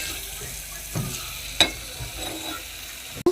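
Dried fish and fried onions are stirred together in a frying pan, giving a soft, close sizzle with a few sharp scrapes and clinks of the spoon against the pan.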